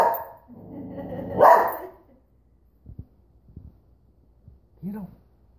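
A dog gives a few short barks and yips in a quiet room, mixed with an excited voice urging it on, and the sounds come in brief separate bursts.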